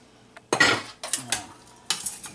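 Chopped celery, carrots, onions and potatoes being mixed for a pot roast: a few quick clattering scrapes and stirring bursts in a bowl or pot, close and moderately loud, separated by short pauses with no voice.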